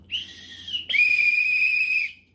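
A small toy whistle is blown twice, a short shrill toot followed by a longer, steady piercing blast.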